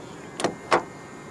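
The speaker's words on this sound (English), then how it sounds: "To lock the car, press the black button on the driver's side door handle." Door locks of a 2025 Toyota Yaris 1.5 G engaging after the driver's door handle button is pressed: two quick, sharp mechanical clunks close together, close by, over a steady quiet background.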